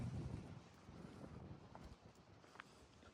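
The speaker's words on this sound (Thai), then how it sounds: "ลม แรง" Strong wind buffets the microphone at a rocky mountain viewpoint in Phu Hin Rong Kla National Park, Thailand, a steady low roar with gusts throughout, and no one talking.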